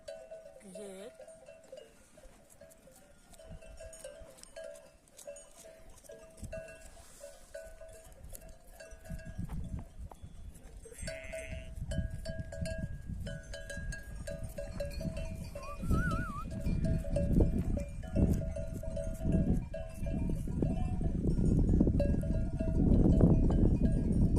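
Sheep and goats bleat now and then while cowbells clink in an open outdoor setting, and a low rumble of movement builds toward the end.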